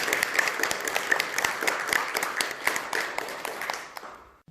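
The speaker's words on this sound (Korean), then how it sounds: "찬탄의 박수 부탁드리겠습니다." A congregation at a Buddhist dharma service applauds with dense, steady clapping that continues for several seconds before fading out at the end.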